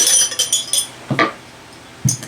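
A glass drinking cup is set down and clinks against other glassware, a few bright close chimes, then a pause before two more taps, with no talking.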